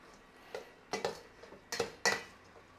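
Bread cubes and oregano being mixed in a skillet make a handful of sharp clinks and scrapes of a utensil against the pan, irregular and close, with quiet gaps between.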